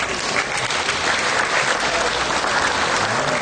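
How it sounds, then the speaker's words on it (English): Audience at the Royal Winter Fair Holstein Show clapping to welcome a judge, a continuous, even burst of applause from a large indoor crowd. "applause to welcome our judge"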